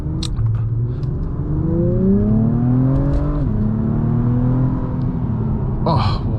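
Engine of a 2024 Acura TLX Type S, around 355 horsepower, pulls hard under acceleration, its rising harmonic whine climbing steadily and loud from inside the cabin, with a brief shift dip midway and no talk over it.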